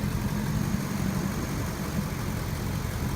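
A car engine idles with a steady, low rumble that holds constant throughout, close by and with no voices.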